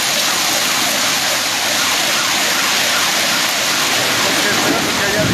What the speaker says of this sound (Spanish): aquí está cayendo a cántaros una tormenta total